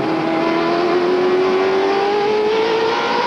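A NASCAR Winston Cup stock car at Martinsville Speedway, heard onboard with its engine holding around 8,800 RPM, gives a loud, steady high-pitched drone that rises slightly in pitch throughout.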